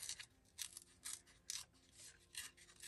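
Scissors trim paper scraps in a series of quick, crisp snips, several short cuts repeating at an uneven rhythm, close but quiet, with no talk.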